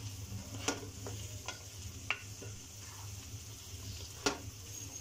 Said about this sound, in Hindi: अच्छी तरह इसको मिक्स कर लें।